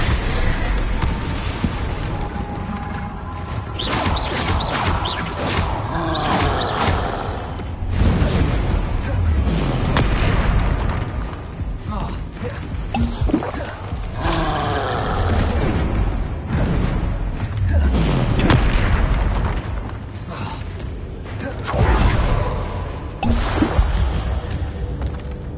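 Bombarda and Confringo spell explosions in Hogwarts Legacy go off again and again as booming blasts with whooshing bursts. They repeat in clusters across a steady, loud game soundscape.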